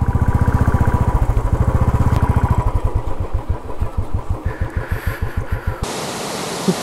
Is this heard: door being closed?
no